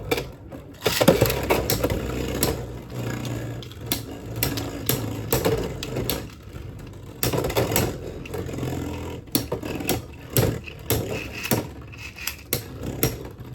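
Beyblade X tops, Hack Viking 4-55O and Circle Ghost 4-60LR, whir after launch and clash in a plastic stadium, giving a busy grinding rattle broken by sharp repeated collision clacks, close and fairly loud.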